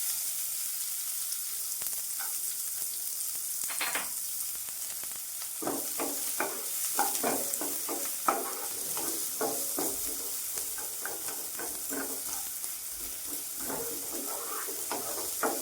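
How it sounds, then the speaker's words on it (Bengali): Chopped onion sizzles in a little oil in a pan, a steady soft frying hiss with scattered scraping taps as it is stirred, heard close and without talk. "পেঁয়াজটাও 1 মিনিট ভেজে নিই।"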